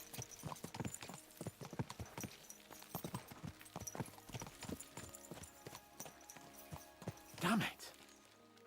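Horses gallop across open ground in the medieval video game Kingdom Come: Deliverance 2, a fast, steady run of close hoofbeats that continues throughout.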